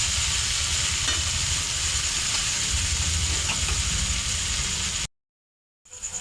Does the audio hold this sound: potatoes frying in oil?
yes